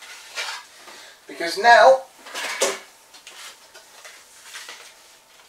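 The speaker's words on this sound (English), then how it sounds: "I'm going to put the grains and this colander to the side" Clattering of a colander and spent grains being set aside during an all-grain pale ale home brew session, a short burst of metallic knocks and scraping while someone talks.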